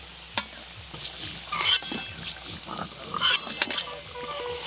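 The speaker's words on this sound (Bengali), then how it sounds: "আলুগুলো খুব ভালো করে লাল লাল করে ভেজে নিয়েছি, এবার তুলে নেব।" Potatoes frying in oil for a mutton curry, a soft steady sizzle with occasional clinks and scrapes of a utensil in the pan, close by and without talk.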